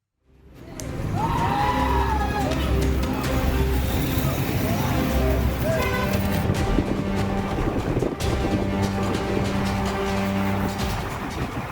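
A car carrying youths sitting out on its doors speeds along the Kochi–Salem national highway at Kanjikode, Palakkad; a continuous loud engine and road roar with wind buffeting runs throughout, with faint shouting voices mixed in.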